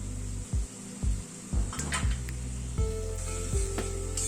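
Spice paste with ginger and onion juice frying for a light egg curry over a medium gas flame sizzles steadily, broken by a regular series of close scraping stirs in the pan.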